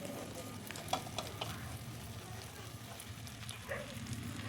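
Ingredients for an egg and potato pizza frying gently in a pan, a soft continuous sizzle with occasional crackles and light stirring taps, close and fairly quiet, no voice over it.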